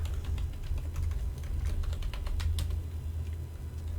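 Rapid typing of code on a computer keyboard, a close stream of light clicking keystrokes, some bursts denser than others, with no voice over it.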